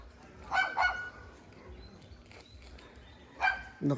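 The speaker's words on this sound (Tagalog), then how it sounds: "Galit yung aso eh." An angry dog barks in short bursts: a quick pair of barks early on, then two more near the end, moderately close against a quiet outdoor background.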